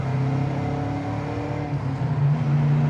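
A 1970 Camaro Z28 V8 accelerating hard with gear shifts around 4,000 RPM, a loud, close, rising engine roar that dips and climbs again, no talk.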